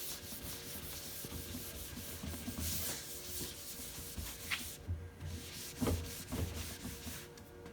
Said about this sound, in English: what you want to do is just buff the wax down